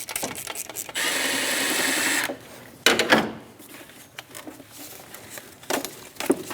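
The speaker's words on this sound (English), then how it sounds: "Using that same 12mm, we're going to loosen the bolt for the tension." Ratcheting 12mm socket wrench loosening the timing belt tensioner bolt on a 2005-2009 Subaru Legacy, a steady dense mechanical whir for about a second, then scattered close metallic clicks and clanks.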